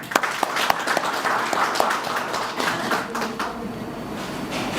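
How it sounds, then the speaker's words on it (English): A crowd applauds at the grand opening ceremony of an education centre, giving a steady wash of clapping at moderate loudness, with a few sharper claps standing out early on before the sound settles into a dense, even patter. "a big round of applause for him"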